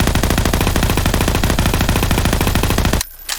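Rapid automatic weapon fire in Garry's Mod, a continuous loud rattling burst of evenly spaced shots for about three seconds before stopping abruptly.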